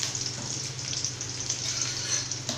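Curry leaves, dried red chillies and crushed garlic crackling in hot oil for sambar, a steady close sizzle with small scattered pops, fairly quiet and without speech.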